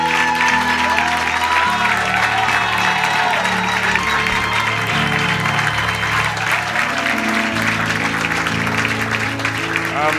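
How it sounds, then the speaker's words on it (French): A congregation at a church seminar applauds loudly and without pause, the dense clapping joined by sustained instrumental tones underneath and a few voices. "Acclamons pour ce Dieu-là."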